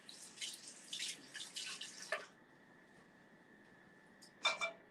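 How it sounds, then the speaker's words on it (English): Running tap water splashes over hands being washed for about two seconds, then stops, leaving a faint steady hum before a short second splash near the end. "Now, wash my hands."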